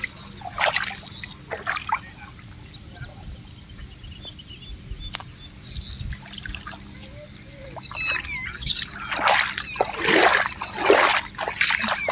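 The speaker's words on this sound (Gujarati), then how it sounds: "કપાસમાંથી પાણી બધેથી કાઢી લેવું પડશે." Rainwater splashes and trickles as it drains out of a flooded cotton field, with irregular sloshing bursts that grow louder and denser toward the end.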